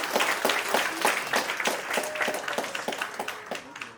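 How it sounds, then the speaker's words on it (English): Audience applauding an orchestra at a dance performance, a brief burst of dense clapping that fades over a few seconds, close and moderately loud. "Please give another round of applause for the wonderful orchestra."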